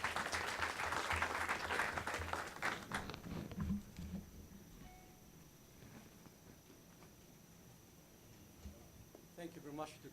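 Applause from a conference audience welcoming a speaker to a talk on Saudi venture capital, dense clapping for about three seconds that thins and fades, with a few scattered claps and some murmuring afterward.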